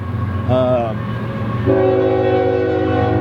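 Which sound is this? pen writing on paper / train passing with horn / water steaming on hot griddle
train passing with horn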